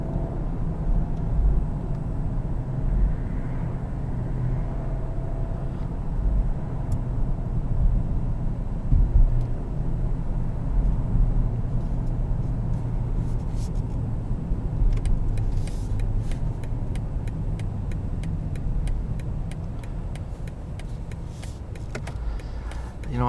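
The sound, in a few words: BMW 750i M Sport driving with transmission in sport mode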